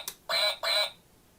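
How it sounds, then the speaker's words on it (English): A toy duck on a toy bus gives two quick, clear electronic quacks in a row, fairly close and alone, with no talking. "What sound does the duck make?"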